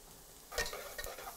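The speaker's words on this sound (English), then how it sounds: "All right, so onions are frying." Soft, steady crackling of onions frying in a pan, with a few sharper pops and stirring scrapes, fairly quiet and close.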